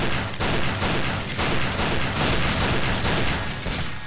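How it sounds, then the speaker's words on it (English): Dense, continuous gunfire from a Counter-Strike scrim match on the Casino map, loud and near, with overlapping bursts and sharp reports layered throughout the whole stretch and no talk over it. "Okay, I'm shooting."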